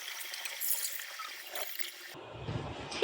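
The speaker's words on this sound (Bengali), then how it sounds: "এবার আমি পানিটি দিয়ে দিলাম রান্না করার জন্য।" Water is poured into a cooking pot of rice and lentils for khichuri, a close, fairly quiet trickling splash that thickens into a fuller gush toward the end.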